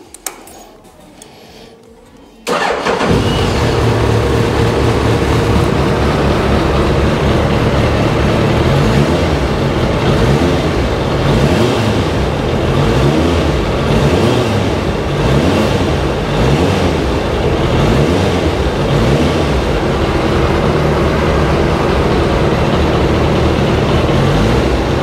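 Suzuki GSX1300R Hayabusa motorcycle with low mileage cranks and fires up after a brief quiet moment, then settles into a loud, steady, close idle that runs unbroken for over twenty seconds.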